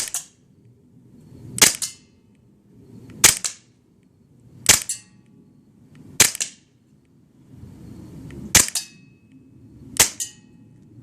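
Six single shots from a WE-Tech G27 gas blowback airsoft pistol fired one-handed at close range, each a sharp crack with a quick mechanical slide clack, spaced roughly one and a half seconds apart over quiet background.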